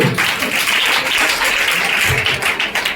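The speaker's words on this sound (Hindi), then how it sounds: "जोरदार ताली बजाएंगे।" An audience at a wedding gathering applauds, a dense, continuous patter of clapping at steady loudness that fills the whole stretch.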